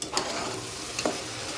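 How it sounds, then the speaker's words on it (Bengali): Water is poured into a hot pot of tender young gourd simmering for a shrimp and fish curry, giving a steady sizzle and bubbling with a couple of brief stirring scrapes. No one talks. "এখন আমি ঝোলের পানি দিয়ে দেবো।"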